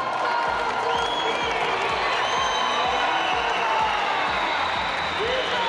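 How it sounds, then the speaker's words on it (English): A big indoor athletics crowd at Ataköy Arena roars as a Turkish hurdler sets a national record and takes the lead, with sustained loud cheering, whoops and clapping throughout. "that is why there's big roars from the crowd"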